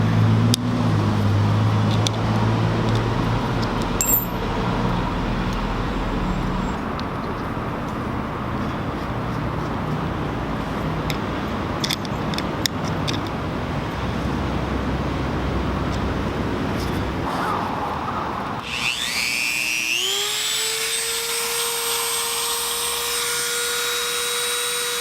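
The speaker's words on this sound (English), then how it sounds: "So I'm gonna take a Dremel and kind of deepen that screw" A Dremel rotary tool grinds to deepen a screw slot in metal, a sustained harsh buzzing whir that runs for most of the stretch, then winds down into a rising whine near the end, close and loud.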